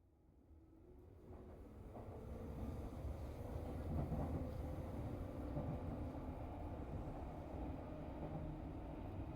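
A train pulls into a station in the anime film Your Name, a low rumble swelling from quiet to a steady rolling roar with faint rail hum and no voices.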